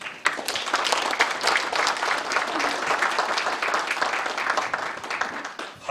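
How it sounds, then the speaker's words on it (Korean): Church congregation at Saenaromm Church in Daejeon applauding in welcome of the senior pastor, a steady, dense round of clapping that holds evenly for several seconds before tailing off. "우리 목사님께 큰 말씀을 사모하고 은혜를 사모하는 박수를 한번 환영해 주십시오."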